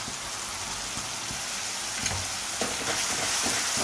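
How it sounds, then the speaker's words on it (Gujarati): A curd mixture poured into a hot pan on the stove, giving a steady, close sizzle and frying hiss with light stirring scrapes throughout. "હવે જે આપણે દહીંનું મિશ્રણ બનાવ્યું એ આપણે અંદર નાખી દઈશું."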